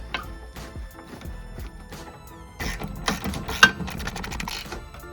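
A jack is cranked up beneath a Honda Pilot during a rear coil spring job, giving repeated ratcheting clicks and mechanical clunks in uneven bursts, close and moderately loud, busier toward the end.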